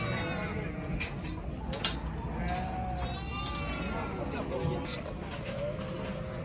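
Lambs bleating at a busy livestock market, wavering cries rising over a steady din of crowd chatter, with people talking nearby.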